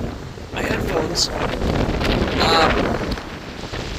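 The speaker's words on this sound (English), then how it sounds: "It's really windy right now." Strong wind buffets the microphone on a beach at night, a steady loud roar with gusts swelling and easing throughout, plus faint surf.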